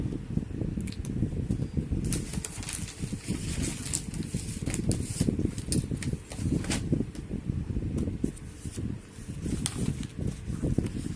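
An electric fan running indoors, producing a steady, loud, close whooshing hum with rustly buffeting through the whole stretch.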